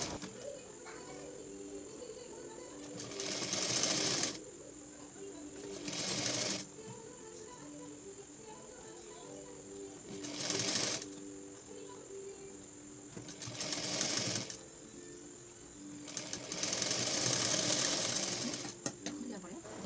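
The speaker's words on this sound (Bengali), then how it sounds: "দিয়ে ধরে ধরে সেলাই করে নেব" Sewing machine stitching down pleated fabric for a latkan tassel, running in five short bursts of a few seconds each separated by pauses, fairly close, with a steady faint hum throughout.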